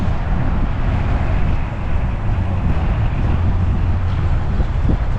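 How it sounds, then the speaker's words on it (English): Steady wind roaring across the microphone outdoors at a car meet, a dense continuous low rumble that stays loud and close throughout, with no voices. "Hope this wind isn't nuts."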